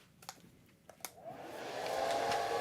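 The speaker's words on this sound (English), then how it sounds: "I'm going to dry this again very quickly" A hair dryer starts up after a few light taps and rises into a steady, close whoosh while drying a watercolor painting.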